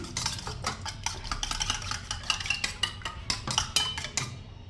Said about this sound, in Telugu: ఓకే బాగా బీట్ చేసుకొని పక్కన పెట్టుకుందాం